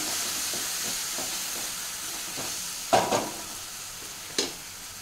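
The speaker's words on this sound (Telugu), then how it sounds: "ఇది ఫ్రై చేసుకుందాం." Spinach curry (palak) sizzling and hissing in a frying pan, a steady close crackle with a few louder scraping stirs of a spoon near the end.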